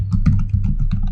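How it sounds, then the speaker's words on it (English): A computer keyboard clatters as a git command is typed in quick, uneven keystrokes, loud and close, with no talking. "type in git --version to check"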